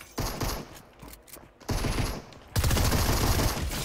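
In a video game, a flashlight pistol fires a rapid string of gunshots alongside mechanical clatter. The bursts come in loud, dense blocks that stop and restart, ending in a sustained heavy volley, with no talking.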